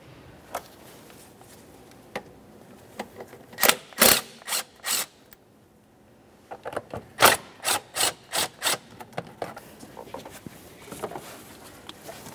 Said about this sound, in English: we're going to loosen each of these two 10mm headed clamps